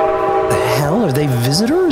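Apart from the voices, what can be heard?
train horn in the video game Fallout 76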